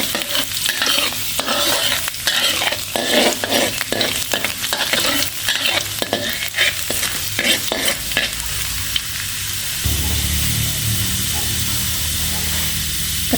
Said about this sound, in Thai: น้ำมันเดือดแล้วใส่กระเทียมที่เราจับไว้ เจียวเลยค่ะ เจียวให้หอมก่อน